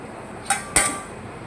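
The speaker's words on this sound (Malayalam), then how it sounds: "ബിരിയാണി ദമ്മ് പൊട്ടിക്കട്ടെ" Two quick metallic clinks close by as the lid is pried off a sealed chicken biryani dum pot, over a quiet background.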